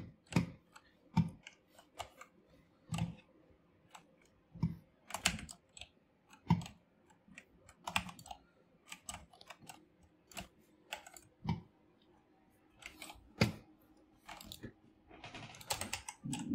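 Keys clatter on a Gamesir VX2 wireless mechanical keyboard during a game, in irregular bursts of sharp, fairly close clicks with brief pauses, and no voices.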